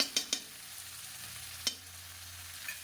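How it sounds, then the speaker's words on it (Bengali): Butter melting and sizzling in a hot pan for a creamy pasta, a steady soft frying hiss with a few sharp clicks of a utensil against the pan near the start and one more midway. "এবার দিয়ে দিচ্ছি পরিমাণ মতো বাটার"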